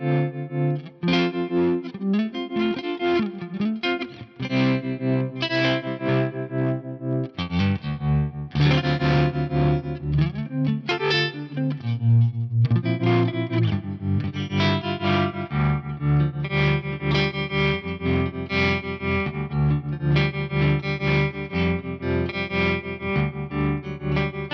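Electric guitar runs through a ring modulator pedal, dirty, metallic tones with uneven tremolo-like beating and wobbling pitches, played continuously and loud, with no talking.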